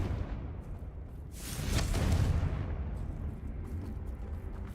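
A Confringo blasting spell in Hogwarts Legacy bursts into a single broad explosion with a rushing whoosh, swelling then fading into a lingering low rumble.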